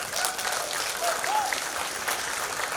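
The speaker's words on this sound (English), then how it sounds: "can we give them a round of applause as well?" Audience applause for volunteers at an MLK community event, a short burst of steady crowd clapping with a faint voice or two underneath.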